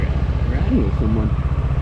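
A Navi motorcycle puts out a low, even engine drone during a ride, heard under someone talking over it for the whole brief moment.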